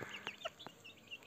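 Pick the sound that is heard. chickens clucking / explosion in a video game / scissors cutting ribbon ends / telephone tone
chickens clucking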